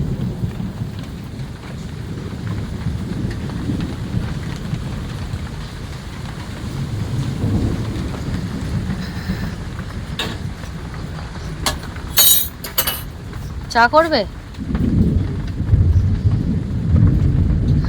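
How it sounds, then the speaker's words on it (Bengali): A thunderstorm with steady rain hissing on surfaces and low rumbles of thunder rolling through, joined midway by a burst of sharper clatter; a brief spoken exchange sits under the storm. "এখনো পর্যন্ত আকাশ ডাকছে"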